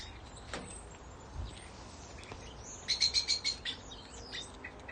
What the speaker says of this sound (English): Cheeky starlings.